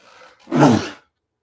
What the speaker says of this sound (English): that was a cerveza sneeze if I ever heard one